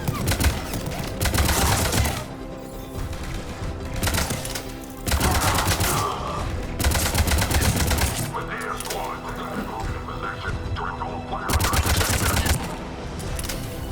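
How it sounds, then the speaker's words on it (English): Rapid gunfire crackles through a Mass Effect 3 firefight in bursts, loud and dense, with lulls between volleys and voices talking over the battle. "They're under fire!"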